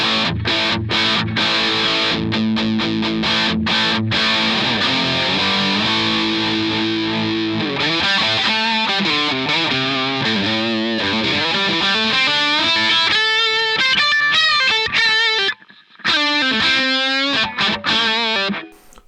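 Overdriven electric guitar through a Tubescreamer overdrive pedal, playing chords and then single-note lead lines, loud and steady with a brief drop near the end.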